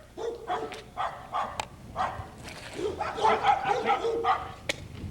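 Several dogs bark and yip in a noisy outdoor scene, overlapping with shouted voices and crowd sound, moderately loud and close.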